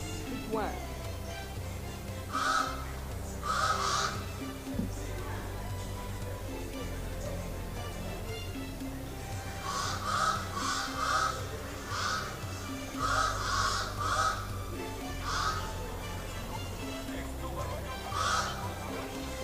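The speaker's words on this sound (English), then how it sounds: "The birds have also come to cheer us on." Birds call and honk at Nambole athletics stadium in Uganda during national track and field trials. Clusters of repeated honking calls come and go through the clip, faint to moderate over crowd noise and people talking.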